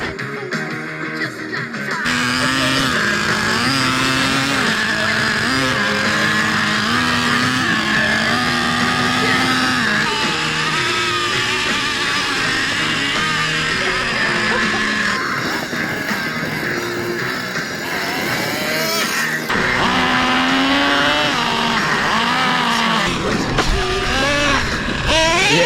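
The 3.3 nitro engine of a Traxxas Revo RC car buzzes continuously at high revs, rising and falling in pitch as it is driven, loud and close throughout.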